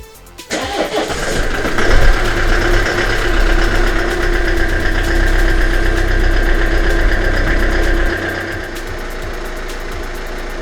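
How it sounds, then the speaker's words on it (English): A Kia Sedona 2.9 CRDi diesel engine cranks and catches after a belt tensioner replacement, then settles into a loud, steady idle with a low rumble that drops slightly near the end. "I will turn the engine on and check if everything is just okay"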